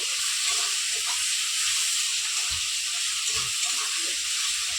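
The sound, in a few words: katla fish frying with ginger garlic onion paste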